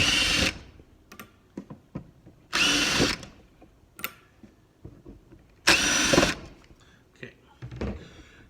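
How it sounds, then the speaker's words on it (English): A cordless drill whirs in three short bursts, close and loud, unscrewing the casing of a reel, with clicks and handling clatter of the small reel between them. "I've got my drill. I'm going to take this apart real quick."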